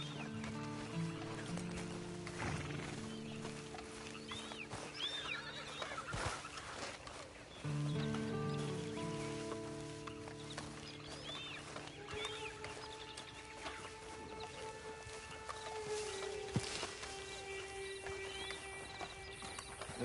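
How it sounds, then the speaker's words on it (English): Horse hooves clip-clop at a steady walking pace in a PS4 video game, with birds and fowl in the background of the game's outdoor scene. "Then you better get on this horse."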